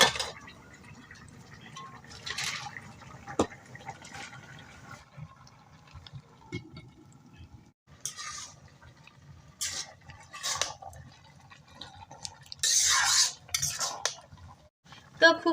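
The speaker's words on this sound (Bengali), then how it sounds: "এবার আমি শাকটা দিয়ে দিব" Greens going into a pan already seasoned with salt, ginger, garlic, chili powder and turmeric, then stirred, with scraping and clattering utensil sounds, occasional louder bursts and some sizzling, close by.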